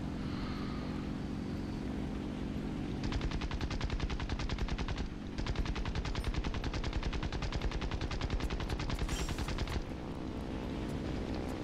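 Rapid automatic aircraft gunfire in War Thunder played in VR, long loud bursts of fast rhythmic shots over a constant engine drone, with a brief pause midway before firing resumes.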